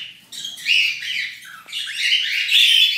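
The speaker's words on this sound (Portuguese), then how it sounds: "Esse aqui é o periquito Burke Rosa, também conhecido como Neofemas" A pink Bourke's parakeet (Neophema) calls with loud, close, continuous chirping and squawky tweets, sounding alone with no voices over it.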